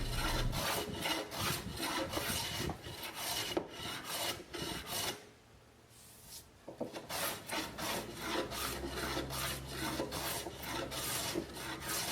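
A hand plane takes repeated rasping strokes across a bandsawn wooden face, close and rhythmic, with a short pause midway before the strokes resume.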